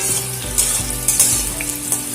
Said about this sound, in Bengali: উচ্ছে আলু কিন্তু ভাজা হয়ে গেছে।